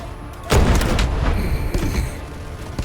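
Artillery fire in the video game Delta Force Hawk Ops: one heavy, deep boom lands sharply, then a rumbling wash of blasts and thuds trails off behind it.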